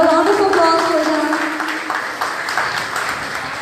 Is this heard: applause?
yes